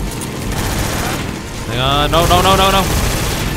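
In Metal Gear Solid 3, a rapid burst of missile fire and explosions roars loudly, mixed with game music and someone speaking.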